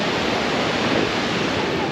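Twin Falls in Lynn Canyon Park, Vancouver, sends water rushing in a dense, steady roar that fills the whole moment, loud and close, with no break or change.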